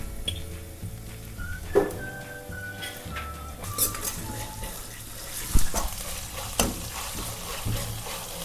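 Ginger garlic paste fries with onions in a home-style pan for chicken curry, a soft continuous sizzle with occasional stirring knocks and clinks, some tonal kitchen noise and background voices.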